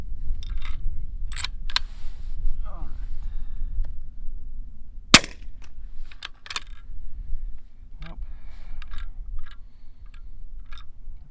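Sharp, isolated cracks of a 300 Blackout rifle firing during an ejection and extraction test, several separate reports with quiet gaps between them and one especially loud, close shot near the middle.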